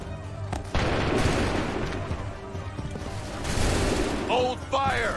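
Soldiers firing a musket volley in the Assassin's Creed III video game, a sudden loud crack of massed gunfire followed by rolling, echoing booms, with game music and shouted commands in between.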